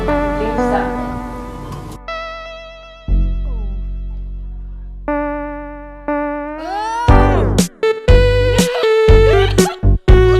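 A cat meows repeatedly and loudly up close in a series of drawn-out, wavering calls, some rising in pitch, mixed with electronic-sounding tones and abrupt cuts between calls.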